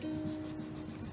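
A rubber eraser rubs back and forth over pencil lines on paper in a soft, steady, close scratchy friction that runs continuously and quietly.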